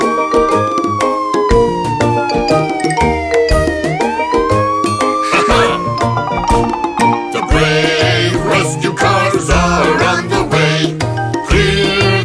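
A police car siren sounds within a children's song, its wailing tone sweeping slowly up and down over bouncy music for most of the stretch, fairly loud and clear.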